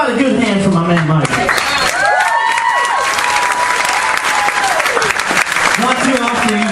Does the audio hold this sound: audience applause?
yes